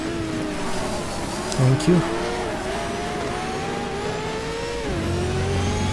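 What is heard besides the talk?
Porsche race car engine in video game GTR2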